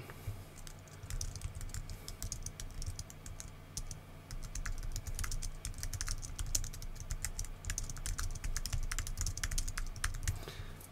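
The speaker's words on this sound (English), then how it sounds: "In fact, I'm going to write that down." Steady fast typing on a computer keyboard, dense irregular key clicks running continuously and close up with no talking.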